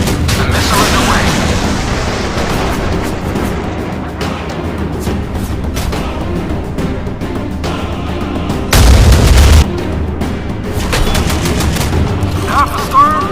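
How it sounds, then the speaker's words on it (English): A missile launches amid gunfire in a naval combat video game with helicopter support: loud repeated booms and rattling bursts, with one especially heavy blast partway through. "The missile is away."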